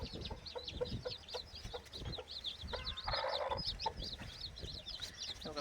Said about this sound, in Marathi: कोंबडी पाणी पित आहे